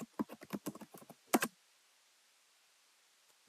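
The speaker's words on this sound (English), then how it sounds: "I'm pressing enter to go on to the next line" Quick bursts of computer keyboard typing, about a dozen crisp key clicks in a brisk run, then a pair of sharper louder presses like the enter key, followed by near silence and a last faint click.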